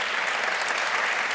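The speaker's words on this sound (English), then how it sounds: "A round of applause, please, for our panel today." An audience at a design festival panel claps, a short, even burst of crowd applause with no voices over it.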